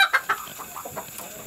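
Chickens cluck in short, quick bursts close by, with a few soft, scattered calls following, in a flock that includes an Easter Egger rooster.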